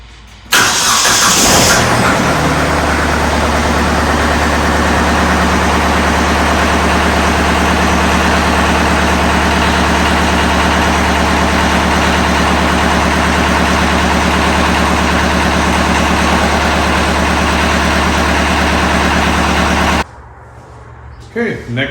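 A Kubota tractor diesel engine, just given its 50-hour service, cranks briefly and catches, then settles into a loud, steady idle close by for about eighteen seconds before cutting off.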